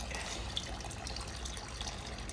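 Tap water pours steadily into a cooking pot for the Uzbek soup mastava, a continuous close rushing hiss at even volume with no talk.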